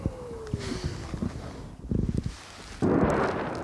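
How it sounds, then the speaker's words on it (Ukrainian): A distant heavy boom of a Russian shell exploding in a nearby field rumbles out, followed by scattered thuds and a sharp burst of noise near the end, with no speech. "це російське залізяче розірвалося поряд у полі"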